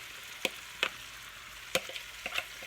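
Sprouts sizzle and fry in melted butter in a pan, a soft steady hiss broken by a few sharp clicks and pops, close and fairly quiet with no talk.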